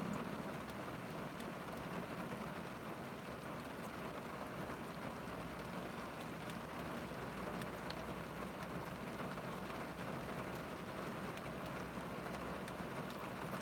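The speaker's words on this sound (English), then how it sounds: "Hear the rain? I love the rain." Steady rain falls outside a parked car in a constant, even hiss with no breaks, faint but continuous throughout.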